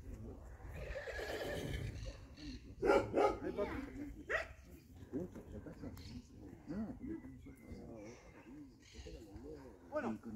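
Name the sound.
grey Arabian horse whinnying in the field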